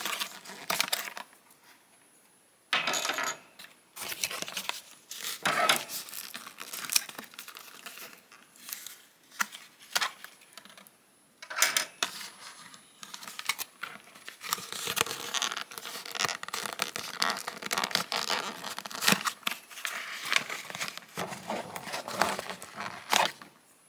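Cardboard and plastic crinkle, tear and rustle as Transformers Legacy Evolution Voyager Class Metalhawk figure parts are pulled off their backing card, in busy irregular bursts with brief pauses, close and alone without talk.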